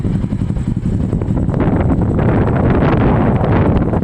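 Strong wind buffets the microphone with a low, rumbling roar, constant and close, with no voices present.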